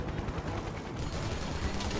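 A helicopter in the video game Final Fantasy VII Remake fires on the player in a continuous rattling stream of gunfire, with a dense, rumbling texture held at a fairly low, distant-sounding level throughout.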